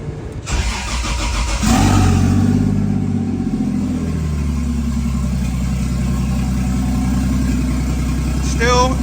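Nissan S13 with a swapped 1JZ engine and open downpipe cranks and catches, then settles into a loud, raspy, steady idle that runs up close throughout with no talk.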